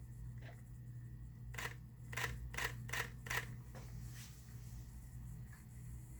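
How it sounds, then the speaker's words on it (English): A quiet series of soft mechanical shutter clicks from a Canon R5 camera, about five in a row at an even pace, over a faint low hum. "the regular shutter on the R5, I want you just to listen to it."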